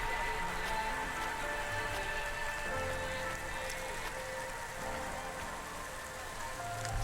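Heavy downpour in the cyberpunk video game Cloudpunk, a steady hiss of rain drumming on surfaces with scattered drips, constant and fairly close, accompanied by a faint low ambient hum and no talking.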